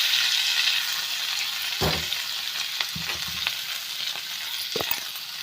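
Potatoes fry in a pan with a constant hissing sizzle, broken by a few knocks and scrapes of a spatula turning them.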